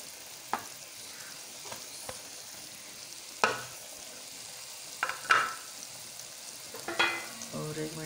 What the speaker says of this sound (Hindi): 4 अदद हरी मिर्च भी डाल देते हैं और इसको भून देते हैं अच्छे तरीके से भून लेंगे